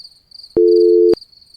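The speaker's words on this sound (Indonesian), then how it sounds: "ternyata yang telepon itu Pak Dedi" A phone gives one short electronic ring tone, loud and steady for about half a second, against a faint high whine.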